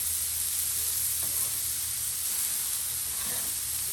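Thin smash burger patties sizzling loudly and steadily on a hot griddle as they are flipped, with a continuous close hiss and a couple of faint scraping touches.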